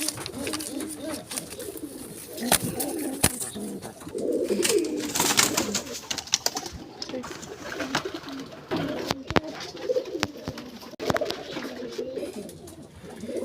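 A mother pigeon coos near her newly hatched chicks in a nest, with repeated low throaty coos and soft fluttering rustles close by, continuing over several seconds.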